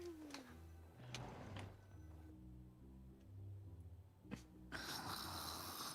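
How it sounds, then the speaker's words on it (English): Paimon, the companion character in the video game Genshin Impact, snores loudly in a steady rhythm of deep, drawn-out snores, ending with a brief snort and a burst of game sound. "Paimon's a loud snorer."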